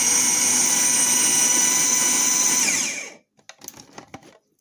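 A blender pulsing vegetables gives a loud, steady motorized whir for about three seconds, then cuts off abruptly, leaving a few faint clicks and rattles.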